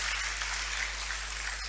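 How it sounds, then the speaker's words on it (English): A seminar audience applauds after a keynote address, a dense, steady wash of many hands clapping throughout, loud and uniform. "I think His Lordship demands a standing ovation from us with a resounding round of applause"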